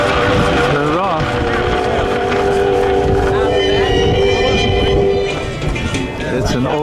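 An Oldsmobile engine running at the Amelia Island Concours car show, a loud steady rumble that rises and falls slightly with revs, close by, with people talking over it.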